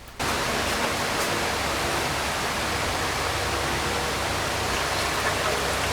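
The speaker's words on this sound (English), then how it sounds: "We're going to dump my coolant in" Car coolant pours into a radiator in a continuous loud, broadband rush, starting suddenly and holding steady, close to the listener, with no pauses.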